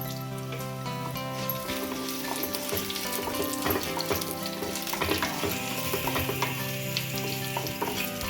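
Spices fry in hot oil for a drumstick leaf dal curry, a close, continuous sizzle dotted with crackles and pops, with no talking.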